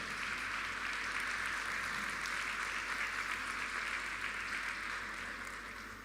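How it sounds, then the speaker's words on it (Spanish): Church congregation applauding together at a worship service, a steady, even wash of clapping that holds throughout and fades slightly at the end. "Démosle un aplauso al Señor."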